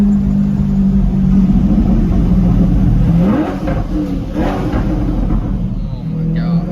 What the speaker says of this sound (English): But with this Paragon exhaust, whole different ball game. Really opens it up. It sounds great.